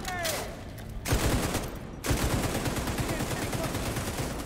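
A deployed turret in The Division 2 fires sustained rapid bursts, dense and loud and running almost continuously after a brief opening pause.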